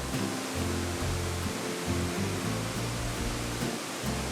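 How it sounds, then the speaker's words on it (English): Small waterfall near the Double Decker Living Root Bridge in Meghalaya, a dense continuous hiss of falling water heard close and fairly loud, alone without voices. "This is a small waterfall over there"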